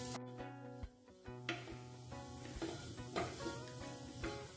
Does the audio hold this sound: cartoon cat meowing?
no